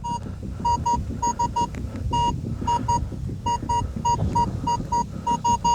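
Repeated short electronic beeps from a metal detector in a field, in quick irregular bursts, over low rumbling ground noise, fairly close.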